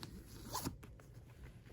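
Zipper on a Multi Sac bag pulled open in one quick rasping stroke near the middle, close and clear, with quieter handling rustle before and after.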